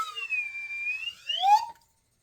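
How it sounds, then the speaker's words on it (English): Short alarm sound effect with sweeping siren-like tones, rising then falling in pitch and ending abruptly, heard alone at moderate volume. "I got my Gil Kane alarm. Gil Kane alert."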